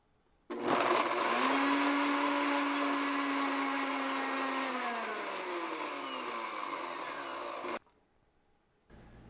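High-speed blender whirring an oil, rosemary and garlic wet rub into an emulsion: loud motor drone starts abruptly, holds a steady whine whose pitch slides down as the mix thickens, then cuts off sharply after about seven seconds.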